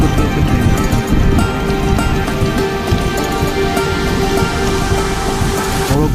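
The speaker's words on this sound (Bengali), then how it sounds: "এই দেখো, পুরো অন্ধকারের মতো বৃষ্টি হচ্ছে" Heavy monsoon rain drums steadily and loudly against an Indian passenger train hauled by a WAP-7 electric locomotive, a dense continuous wash of water noise with a rumbling undertone throughout, with no voices.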